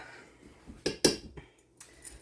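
A metal utensil clinks and scrapes against a pan while breaking up cold fried rice, with a few sharp, close taps and scrapes spaced unevenly over a couple of seconds.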